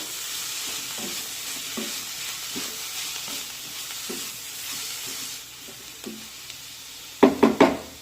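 Salt being stirred into coriander bhaji in a kadhai, a soft sizzle under light, repeated scraping strokes of a spoon, ending with a few louder knocks against the pan.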